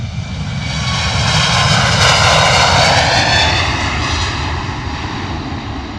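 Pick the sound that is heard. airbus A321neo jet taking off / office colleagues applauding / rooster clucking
airbus A321neo jet taking off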